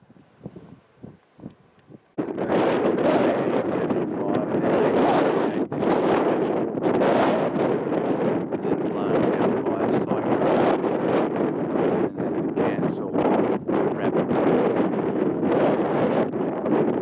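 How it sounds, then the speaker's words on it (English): Strong wind gusts across open outback land. It comes in abruptly after a short quiet stretch, then roars loud and steady into the microphone with continuous buffeting. "You can hear the wind here now."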